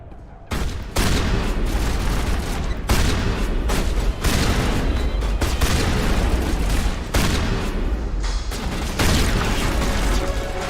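Grenade blasts and rapid gunfire in the Mass Effect Legendary video game, a dense run of booming explosions and shot bursts in quick succession, loud and continuous with brief gaps.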